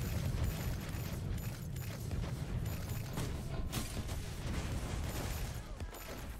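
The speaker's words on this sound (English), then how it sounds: "the rockets are pretty cool" Rocket weapon explosions in the video game Time Treker, a dense rumbling barrage of booms and blasts rolling continuously with low, heavy impacts and mechanical clatter.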